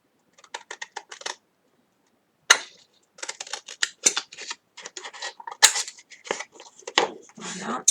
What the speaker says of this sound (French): je coupe directement au biseau parce que je sais que c'est ma languette et que je vais la couper